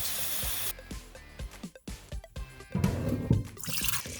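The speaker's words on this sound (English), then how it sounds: "First thing we're gonna do is fill this up with water though." Water pours into an electric roaster oven over dry northern beans: a hissing rush at first, then uneven splashing and gurgling spurts, then a fuller, steady pour near the end, heard close up with no talking.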